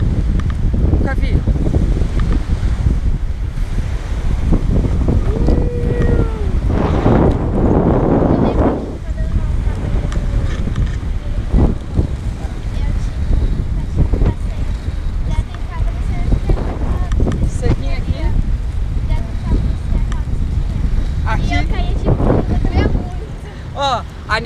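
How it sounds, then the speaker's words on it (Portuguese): Rough, high surf crashes and rolls at a seaside park, a loud, continuous roar of waves and wind buffeting the microphone, with voices talking intermittently over it. "o mar tá alto mesmo"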